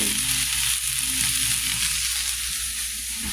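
Vegetables fry in a pan with a steady, close hissing sizzle and faint crackles throughout, no voices over it.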